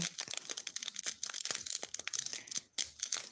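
A plastic packet of diamond painting supplies is torn open by hand, crinkly ripping and crunching plastic in quick, irregular bursts close to the microphone.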